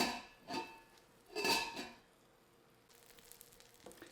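A tuna melt sandwich grilling in a covered pan, giving two soft bursts of sizzling and frying, then a quieter steady hiss with faint clinks near the end.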